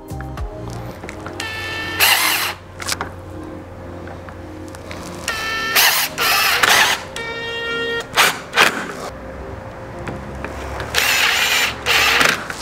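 A power drill drives screws into a PVC pergola frame, with several loud whirring bursts of varying length separated by pauses and quieter handling noise.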